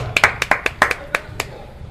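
Sparse clapping from a few people in a basketball broadcast booth during a Celtics at Warriors game, a dozen or so sharp, close hand claps in an uneven rhythm over a quiet background.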